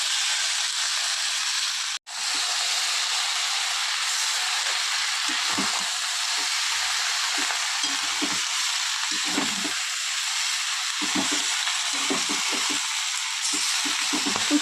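Spices and Malabar spinach frying in a hot pan for a Bengali winter-vegetable and prawn chorchori, a steady loud sizzle throughout with a brief cut early on and intermittent stirring scrapes.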